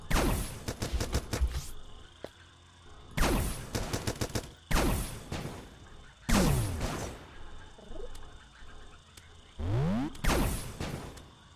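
Video game gunfire in Starbound: several loud bursts of rapid shots in separate volleys, each cutting off sharply into near silence, with occasional sweeping zaps between them and no talking.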